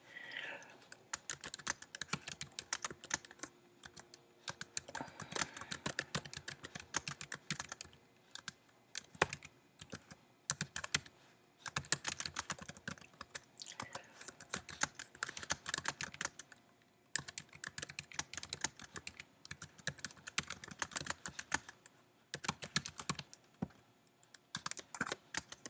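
Fingers type steadily on a computer keyboard, giving dense bursts of crisp, close clicking. Brief pauses break the bursts, and the whole run is fairly quiet with no talking.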